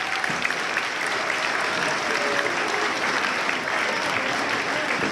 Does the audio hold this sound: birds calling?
no